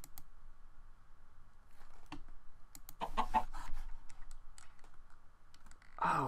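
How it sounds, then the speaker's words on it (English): Chickens cluck in a Minecraft mod game, short clucks and clicks scattered over a quiet background, with a louder burst of clucking near the end. "it's a certain chance that you'll be able to tame chickens"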